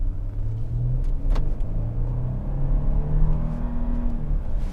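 Twin-turbo 3.5-liter V6 of a 2026 Nissan Armada Pro-4X pulls steadily under acceleration, a continuous low engine drone with rising tone heard from inside the cabin, with no talking.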